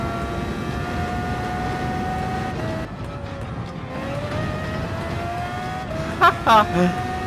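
A Formula car engine in Gran Turismo 7 sings at a loud, steady high-revving whine. Its pitch steps down and back up through a couple of gear shifts, and a brief voice comes in near the end.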